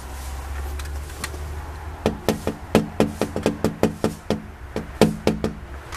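Knocking on the door of a police station in Luhansk: a low hum first, then loud, close raps on the door in uneven bursts of two and three that keep going for several seconds.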